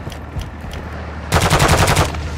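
Rapid automatic gunfire rips out in the Call of Duty Modern Warfare II DMZ video game, a dense close burst of shots that starts abruptly after quieter distant pops and ambient rumble.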